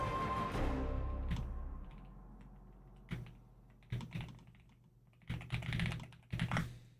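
Keys clatter on a computer keyboard in quick bursts of close, crisp typing with short pauses between runs, and no voices.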